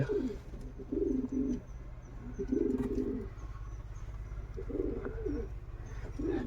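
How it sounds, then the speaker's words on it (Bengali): Jacobin pigeons with two newly hatched chicks in a loft, giving repeated low rolling coos in three clear bursts, close and moderately loud over a steady background hum. "দুটো জাকুবিন কবুতরের বাচ্চা উঠেছে"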